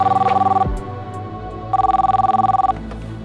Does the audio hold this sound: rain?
no